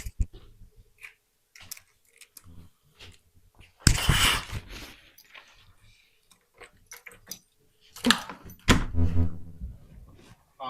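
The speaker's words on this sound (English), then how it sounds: "who's knocking on a Sunday?" Knocks at a house door on a Sunday, a few short thuds around the middle and again near the end, with quiet talk in between.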